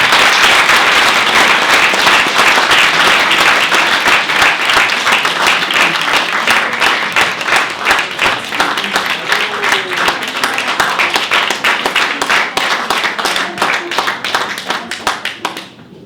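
An indoor audience claps for a long stretch, a dense and loud round of applause that thins to scattered claps and fades near the end.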